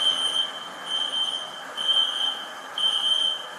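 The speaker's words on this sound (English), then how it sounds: "Oh, I hate the alarm. I need it to stop." A fire alarm ringing in a building, sounding as a repeating high-pitched electronic tone in steady beeps, moderately loud and alone with no talk.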